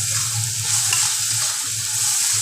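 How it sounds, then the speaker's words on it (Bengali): Capsicum rings frying with onion and tomato in a pan give a loud, continuous sizzle, close up, with soft rhythmic stirring underneath and no voices. "একটু ভাজা ভাজা করে দিলাম, পেঁয়াজ আর টমেটোটাও ভাজা হয়ে গেল"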